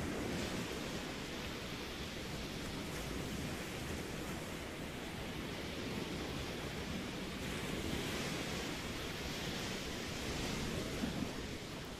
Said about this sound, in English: Man, those waves are so loud.